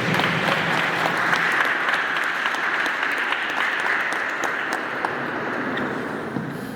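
An Easter vigil congregation in a church bursts into sustained applause, dense and steady throughout, slowly easing toward the end, with no voices standing out.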